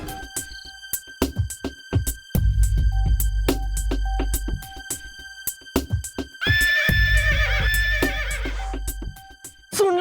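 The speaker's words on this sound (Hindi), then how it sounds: "सुन ले हिनहिनाहट" A horse whinnies loudly and close in two long bursts, with sharp clip-clop hoof beats and ringing electronic tones in between.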